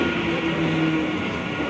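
A local passenger train at a busy station gives off a steady, close, continuous rumble and hum with no break.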